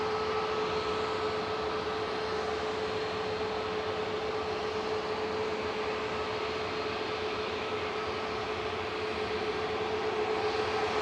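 Five-year-old Airbus A320neo at Manchester Airport, a steady distant engine roar with a constant whine, unbroken and even throughout, no one talking.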